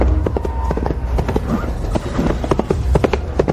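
Horses gallop in a race with loud, rapid clip-clop hoofbeats that pound steadily throughout, close and dense, with faint whinnying mixed in.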